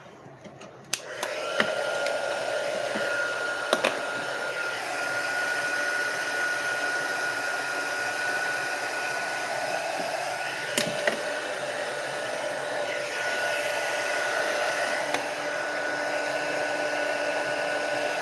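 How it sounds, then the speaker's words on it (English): A heat gun used for heat embossing blows with a steady whirring hiss for the whole stretch, close and constant, with a few faint clicks and taps along the way. "And now I'm going to turn on my heat gun."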